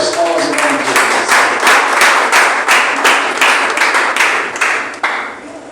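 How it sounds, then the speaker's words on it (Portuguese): A church congregation claps in rhythm, steady loud close hand claps repeating about twice a second and fading at the end. "Recebemos a luz com as palmas em nome de Jesus."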